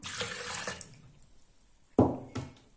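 A glass of water is poured into a lemon and sugar mixture, first a short liquid splash and trickle, then a pause. Two sharper splashes follow, close and fairly quiet, with no talking.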